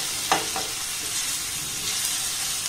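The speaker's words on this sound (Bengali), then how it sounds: "আবারও সমস্ত উপকরণ খুব ভালোভাবে নাড়াচাড়া করে একটু কষে নেব।" Spiced vegetables with Maggi masala sauté in a pan, a steady broad sizzle with a couple of soft stirring scrapes near the start, close and continuous, with no talking.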